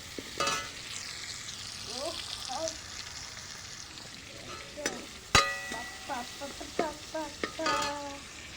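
Meat cooking in a pan on a rooftop, a soft steady frying sizzle with scattered scrapes and clinks of stirring, plus brief rising whistles and bright tonal chirps, heard at close range.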